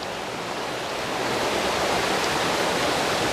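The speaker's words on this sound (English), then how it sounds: "the sound of the river rushing" A river near Grecia in Costa Rica's Central Valley rushes in a steady, broadband roar, close and unbroken throughout with no voices.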